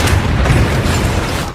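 A single loud explosion of explosives set inside a jeep booms with a deep, rumbling roar that fills the short clip before cutting off.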